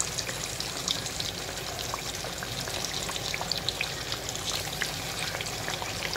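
Sweet potato pieces fry in oil in a pan for kamote que, a steady close sizzle with scattered pops and crackles and no talking.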